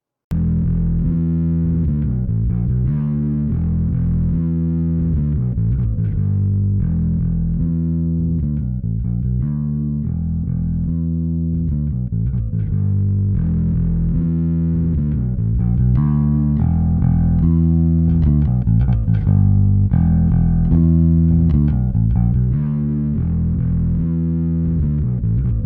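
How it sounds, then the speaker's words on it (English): Bass guitar played through the scooped Type 1 drive of a Markbass Mark Vintage Pre, a thick fuzzy distorted tone in a steady riff of repeated low notes that runs loud without a break. "The Type 1 drive has a scooped tone for a more pure distortion."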